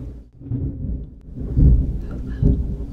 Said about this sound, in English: It's gonna thunder again.